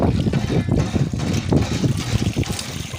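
Cold water splashes and trickles as someone washes their face in the morning, a continuous close, wet sloshing with irregular bursts.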